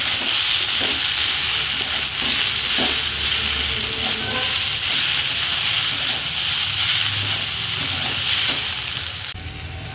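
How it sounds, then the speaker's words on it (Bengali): Vegetables frying in a pan with salt and turmeric, a loud, close, constant sizzle with intermittent stirring scrapes, fading slightly at the end, with no one talking. "দিয়ে আবারও খুব ভালোভাবে ভাজতে থাকবো।"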